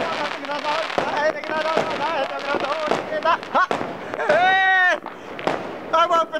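Fireworks and firecrackers bursting outdoors at a Romanian fireworks display, giving sharp scattered pops and bangs among people talking loudly nearby.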